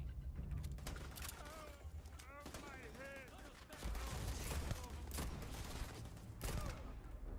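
Rapid gunfire from a shooter video game crackles in bursts over several seconds, mixed with mechanical clicks and whooshing game effects while someone talks over it.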